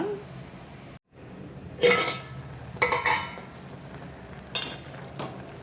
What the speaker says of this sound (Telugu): ఇలా స్టవ్ మీద పెట్టుకొని మూత పెట్టుకొని ఉడికించుకోవాలి